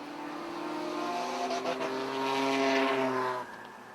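Race cars run laps on an oval track, with a steady engine drone and shifting pitch that swells slightly as the cars pass, heard from a distance and moderately loud.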